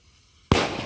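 A Deepavali firecracker goes off in a single sharp, loud blast that cuts through a quiet background, followed by a short crackling decay.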